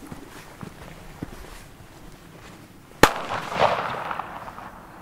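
A D-Böller firecracker goes off outdoors: one sharp, loud bang cuts through quiet background ambience with faint thuds, then a rumbling echo and noise trail away.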